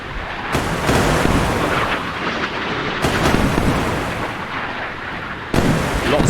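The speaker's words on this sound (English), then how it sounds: "SM2s are now shooting down the red missiles" SM-2 missiles launch and intercept incoming missiles in the naval combat game Sea Power, heard as a continuous loud roar of rocket motors and rumbling detonations, with several sharp blasts cutting in.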